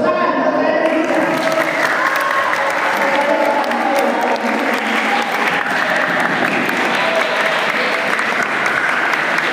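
Loud, sustained applause from an audience at an Islamic boarding school student election debate, dense clapping filling the whole stretch with a crowd murmur underneath.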